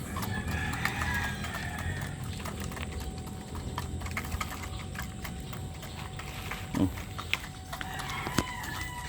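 A rooster crows faintly in the distance over a steady low outdoor rumble, with a few sharp clicks near the end.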